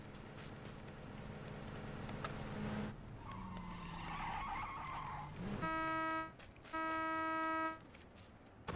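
A vehicle in PUBG on the Miramar desert map revs and skids with tire squeals, followed by steady mechanical hums; quiet overall with no talk.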